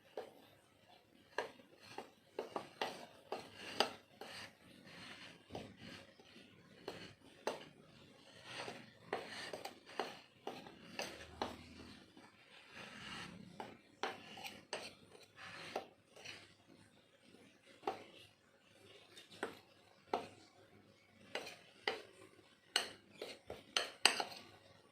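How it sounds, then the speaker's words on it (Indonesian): Flour and cocoa powder stirred together in a bowl for a cake batter, with a steady run of close clinks and scrapes from a utensil against the bowl and no talking. "Lalu kita akan aduk"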